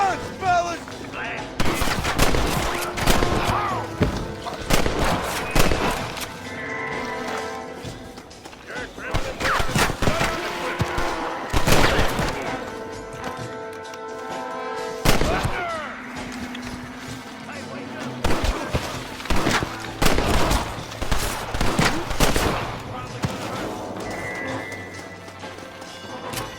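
Gunfire in Red Dead Redemption: repeated bursts of shots and heavy volleys spread across the scene, some close and sharp, mixed with hoofbeats, crashes and shouted voices between the shots.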